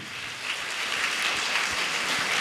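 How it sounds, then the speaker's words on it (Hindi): A church congregation clapping hands in thanks, a dense continuous patter of many hands that swells slightly and holds steady, fairly loud and without voices over it. "तालियां बजा के हम परमेश्वर को धन्यवाद दें।"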